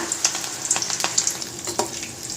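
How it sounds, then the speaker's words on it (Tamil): Mushrooms deep-fry in hot oil in a kadai over medium flame, a close crackling sizzle with quick irregular pops and bubbling bursts and no talk. "ஒரு கடாயில் எண்ணெய் சேர்த்துட்டு எண்ணெயில் போட்டு எண்ணெய் காஞ்சதும் பார்த்தீங்கன்னாக்கா கொஞ்சம் கொஞ்சமாக சேர்த்து பொரித்து எடுத்துடலாம்"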